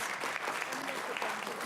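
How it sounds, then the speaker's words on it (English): An audience claps in a steady, dense patter at a school board meeting honoring students, the sound moderately distant and even throughout its short span. "If we can give them a round of applause, please."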